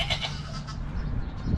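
Goats on a farm after a night of rain bleat in a dense, noisy outdoor scene, the cries blending together at moderate loudness over broad background noise.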